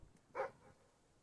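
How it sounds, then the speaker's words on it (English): A dog in Fable III gives a single short bark, moderately loud and fairly close, against quiet game background sound. "I know the dog just barked."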